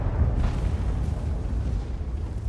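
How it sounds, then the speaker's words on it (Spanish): Tank cannon fire in World of Tanks, a heavy booming blast near the start followed by a rumbling low decay, loud and without talk. "Carro está tan loco echándose ese tiros así"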